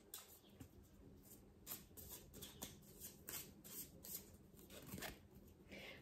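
A deck of affirmation cards is shuffled and one card is drawn, heard as soft, quiet riffling and shuffling with small papery flicks, close but faint.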